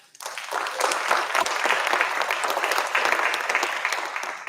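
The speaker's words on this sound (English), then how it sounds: "how about a big round of applause for that?" Audience applause at a school PTA awards night: many hands clapping in a dense, sustained wash that swells quickly and holds steady, heard clearly from within the room.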